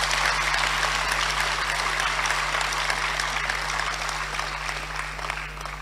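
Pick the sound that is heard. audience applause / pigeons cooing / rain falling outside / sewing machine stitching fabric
audience applause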